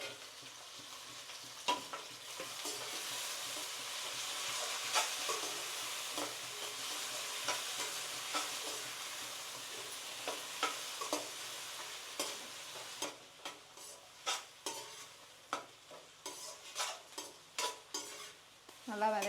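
Garlic, curry leaves and tomato sauté in a pan with a steady broad sizzle, then spatula scrapes and stirs sharpen into distinct strokes toward the end; no one speaks.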